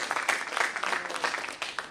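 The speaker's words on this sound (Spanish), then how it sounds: "magíster Soledad Miriam Gómez Peña, a quien pido un fuerte aplauso" Audience applause after a speaker is introduced at a training session on archival standards, steady dense clapping from a crowd for about two seconds, moderately loud with no talk over it.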